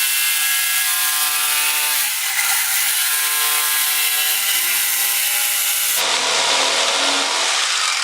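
A power saw cuts foam pieces for a DIY kayak, giving a loud, continuous buzzing whine whose pitch sags briefly under load, then gives way to a rougher hiss near the end.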